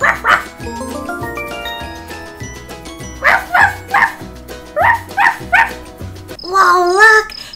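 A trained dog barks in short bursts, clusters of two or three sharp yips repeated close by, ending with a higher whining whimper, over soft background music.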